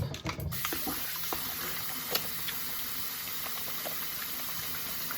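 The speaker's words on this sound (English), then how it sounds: "let me wash my hands" Running tap water steadily hisses into a kitchen sink while hands are washed before cooking barbecue chicken, with a brief louder splash at the start and small clinks over the continuous flow.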